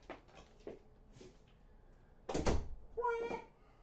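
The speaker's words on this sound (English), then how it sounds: "I'm gonna close this door real quick." A door in a room being pushed shut: a few light shuffling knocks, then a loud close-range thud with a short rattle, followed by a brief creaking squeal as it settles.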